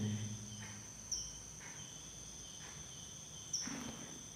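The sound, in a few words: crickets chirping at night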